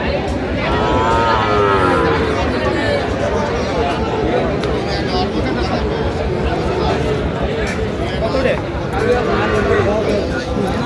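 Sahiwal cattle at a livestock market in Narayanganj low now and then through a dense, continuous hubbub of crowd chatter and bargaining voices, with no single call standing clear of the noise.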